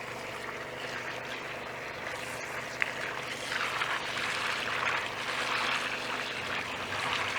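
Water runs from a hose onto garden plants as a soft, steady hiss that swells slightly louder partway through, with no talking.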